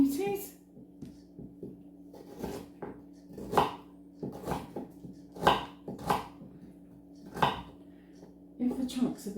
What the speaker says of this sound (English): So now I'm chopping these beauties.